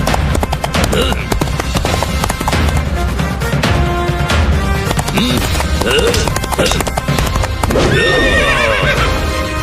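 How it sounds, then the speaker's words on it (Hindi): Horses gallop down a road in a cartoon, hooves clip-clopping in a fast loud rhythm with repeated whinnies and neighs over a busy music and effects bed. "कौन है ये जो सड़क पे घोड़े दौड़ा रहा है?"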